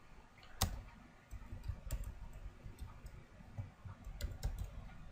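Keys on a computer keyboard tap at an irregular pace while HTML and CSS code is typed, with a few sharper clicks standing out over a low background hum.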